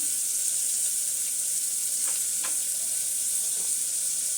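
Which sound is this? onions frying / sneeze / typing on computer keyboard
onions frying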